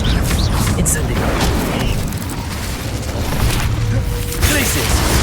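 Incendio fire spell cast in the video game Hogwarts Legacy, a dense roaring burst of flame with booming crackle that runs for several seconds at steady loudness.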